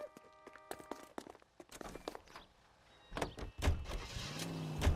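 In the video game L.A. Noire, footsteps and the clunk of a car door give way to a car engine starting and revving, close and fairly loud, with no talking.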